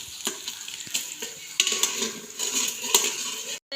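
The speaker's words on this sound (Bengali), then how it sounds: "প্রথমে কিন্তু ডিম আর রসুন ভাজছে" Egg and garlic frying in a pan for fried rice, with a steady sizzle and scraping, clinking stirs of a utensil against the pan recurring throughout, up close.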